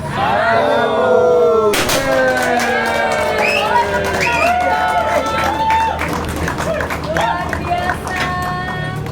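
Audience applause and cheering at a ribbon-cutting ceremony for a Benelli flagship store opening in Surabaya, a crowd clapping steadily throughout with a voice speaking over it.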